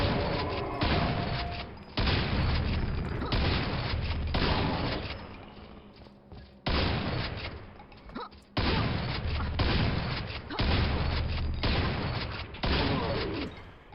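Grenade explosions in the video game Quake, a run of loud, dense booming bursts that roll in repeated waves across the stretch, each swelling and fading before the next hits, with no talk over them.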